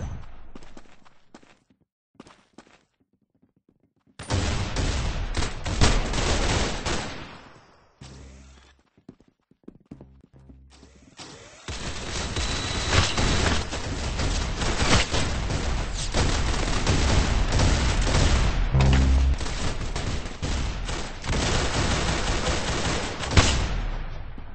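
Dense, sustained gunfire from the Roblox game Arsenal, loud bursts of rapid shots running almost continuously after a few sparse early pops.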